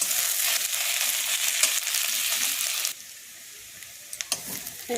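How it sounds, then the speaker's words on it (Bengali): Ginger, garlic and chopped green chilli sautéing in a pan, a steady bright sizzle for about three seconds that drops to a quieter hiss, with a few scraping stirs near the end; no talking. "এরপর এটাকে ভালো করে কষিয়ে নিতে হবে আদা রসুনটাকে।"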